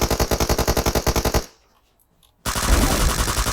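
Close, loud automatic gunfire in PUBG Mobile fires a rapid even burst, breaks off into about a second of silence, then starts again.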